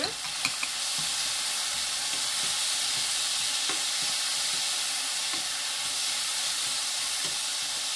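Ham sizzles and crackles steadily in a hot pan while being stir-fried with seasoned soy sauce, a close, continuous frying hiss with occasional scrapes of stirring and no speech.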